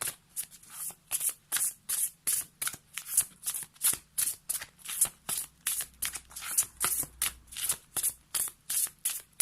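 Tarot cards are shuffled over and over in a steady, rapid rhythm of riffling bursts, close and crisp, with no talking.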